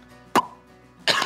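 Two short, dry coughs from a person, separated by a pause, fairly close and moderately loud in a quiet room with no talk.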